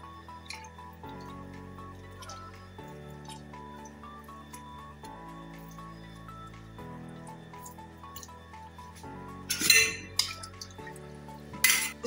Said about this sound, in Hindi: और फिर इसके अंदर हम नींबू डालेंगे, 1 नींबू